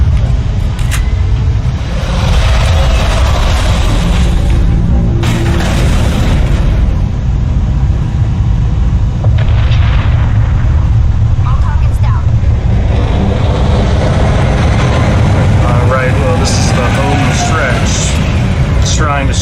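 Mass Effect battle as Citadel defense turrets fire on a Geth ship: heavy booming blasts and a continuous low rumble, with intermittent sharp bursts of impacts, loud and close.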